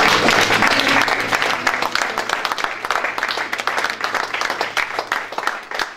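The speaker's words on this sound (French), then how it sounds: "Est-ce que tu peux applaudir pour les femmes?" An audience claps for the women during a sermon, a loud burst of applause that thins into scattered, uneven claps over several seconds, with some voices underneath.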